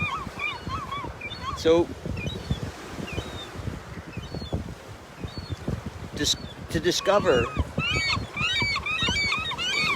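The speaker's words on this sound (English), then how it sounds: "I love the sound of this, the gulls in the ocean." Gulls call in bursts of sharp, repeated cries over ocean surf and wind, partly distant and partly nearer, with someone speaking quietly over part of it.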